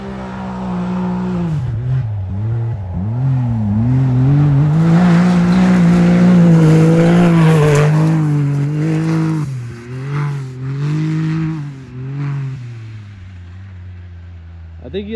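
Vehicle fitted with new 32-inch AT Warrior all-terrain tires driving along a track, its engine droning loudly and rising and falling in pitch with acceleration, nearby and continuous, tapering off toward the end.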